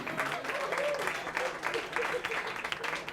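Audience at a talk breaks into applause, a dense patter of clapping at moderate distance that holds steady for a few seconds, mixed with some crowd murmur.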